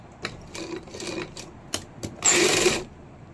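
A sewing machine double-stitches the shoulder seam of a lined kameez in short bursts: several brief clicking runs, then a louder sustained stretch near the end, close by and with no talk.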